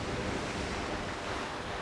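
Sea waves washing below a seaside villa with a direct sea view in Istanbul, a broad steady roar of surf mixed with wind rumble, continuous and fairly close, with no voices.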